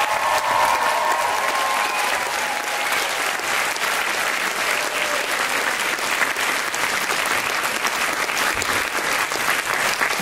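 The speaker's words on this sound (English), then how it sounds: "Let's give them a round of applause" An audience at a music concert steadily applauds elementary school performers, a dense, even wash of clapping lasting the full ten seconds with no voices standing out.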